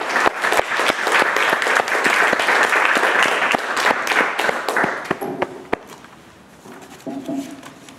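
Audience applause filling a performance space at Tate Modern, dense sustained clapping for several seconds that thins into a few scattered claps and fades out near the end.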